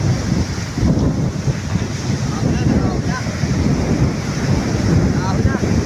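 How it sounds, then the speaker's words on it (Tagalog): Strong typhoon wind roars steadily across Manila Bay, with surf and waves crashing and heavy buffeting against the microphone throughout and no voices. "Lakas ng hangin lang mga kababayan, yung ulan wala."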